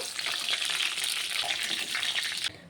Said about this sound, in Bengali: বাকি মাছটাকেও একইভাবে ভেজে নেব